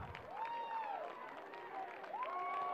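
A crowd at an NCAA men's lacrosse semifinal between Towson and Delaware cheers. It is a steady, moderately distant roar with a few rising, whistle-like tones riding over it.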